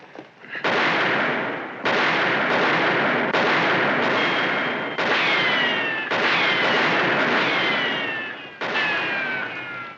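Gunfire in a Western shootout crashes out in repeated loud shots about a second apart, each leaving a long echoing tail, some with ricochet whines, close and without speech.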